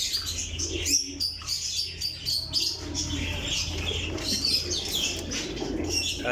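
Rampuri pigeons coo softly amid a busy mix of chirping birds and occasional wing flutters, continuous and fairly close.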